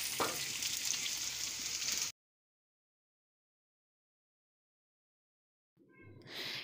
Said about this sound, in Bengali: ভেজে নেওয়ার পর এবার আমি পটলগুলোকে দিয়ে দিচ্ছি এর মধ্যে, দিয়ে এগুলোকে আমি এরপর কষিয়ে নেবো ভালো করে।